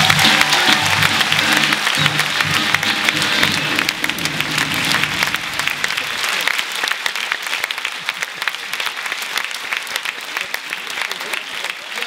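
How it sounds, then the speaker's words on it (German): Loud, sustained clapping from a comedy show audience rolls on for several seconds, thick and continuous, with an early low rumble of cheering underneath that drops away midway. "Applaus für André Herrmann, meine Damen und Herren"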